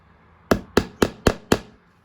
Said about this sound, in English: I get my little hammer and nail